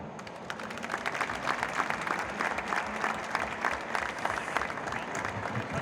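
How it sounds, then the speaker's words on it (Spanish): An audience at a talk about Peugeot in motorsport claps steadily and densely for several seconds, a continuous crackle of applause from a seated crowd. "Así que os pido un aplauso y empezamos."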